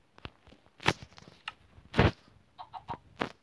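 Scattered short clucks and squawks from a Minecraft chicken, irregular and fairly close, with small taps and rustles in between.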